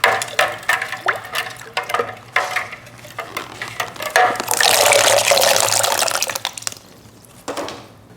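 Water swirling in a bowl as blueberries are tossed into a vortex for a cleaning water bath; sloshing, running water that builds into a steady loud rush mid-clip, then fades.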